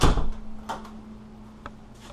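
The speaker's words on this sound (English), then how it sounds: "Shut the door when you go out." A door on a coach shuts with a solid thump, followed by a couple of lighter knocks and rattles in a room with a steady low hum.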